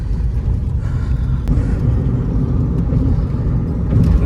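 A Mahindra XUV500 cruises along, heard from inside the cabin as a loud, continuous low engine and road rumble with a few light knocks and no voices.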